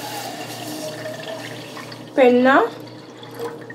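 About a cup and a half of lukewarm water is poured into a cup in one short stream that rises in pitch as it fills. It follows a spoken voice, and a faint background hum continues throughout.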